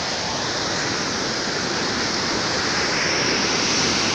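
Chandoli waterfall in full flood, its heavy water falling with a loud, steady roar that fills the whole stretch without a break, close and unvarying, with no voices over it.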